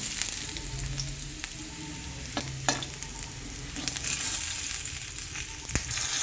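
Bay leaf, whole cumin seeds and cardamom dropped into hot oil beside frying potatoes, a steady crackling sizzle with sharp pops and spoon scrapes, no voices.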